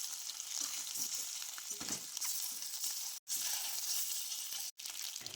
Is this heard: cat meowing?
no